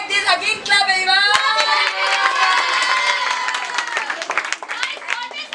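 Students in a classroom role play clap together, a lively burst of hand claps mixed with cheers and excited shouts from the group that gradually thins toward the end.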